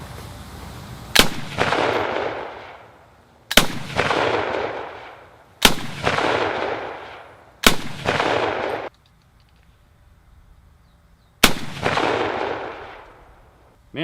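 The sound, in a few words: Johnson rifle firing, 7mm Mauser barrel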